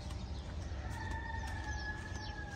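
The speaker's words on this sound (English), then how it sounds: "Do you hear that cock-a-doodle-doo?" A rooster crows a drawn-out cock-a-doodle-doo from some distance on a chilly morning beach walk in Tunisia, faint over a steady outdoor wash of background noise.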